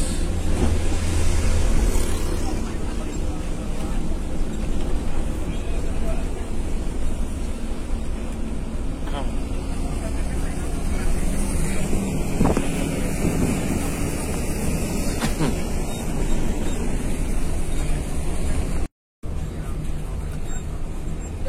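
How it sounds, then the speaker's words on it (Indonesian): Ferry harbour crossing the Sunda Strait with a constant roar of boat engines, wind buffeting the microphone and washing waves, loud and steady throughout, with people talking over it. "Dia pelabuhannya guys"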